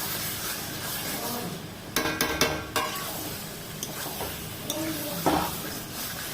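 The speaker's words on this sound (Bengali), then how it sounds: "ভালো করে মশলাটা দিয়ে কষিয়ে নিচ্ছি" A spoon scrapes and stirs through sizzling spices in a pan for mutton kosha, with several quick metallic clatters against the pan's sides.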